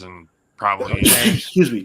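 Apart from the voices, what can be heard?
sneeze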